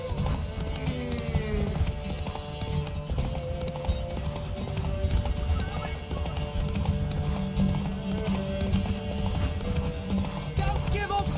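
Horse hooves gallop in a fast, continuous drumming rhythm during a race in the Witcher 3 video game, with game music and occasional rider voices layered over the pounding.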